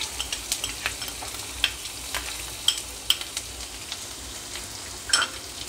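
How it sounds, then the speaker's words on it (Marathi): Finely chopped onion sizzles and fries in a hot pan, with scattered crackles and light stirring scrapes above a steady frying hiss, close and fairly quiet with no talking. "त्यानंतर मी बारीक कापून घेतलेला कांदा ॲड करते"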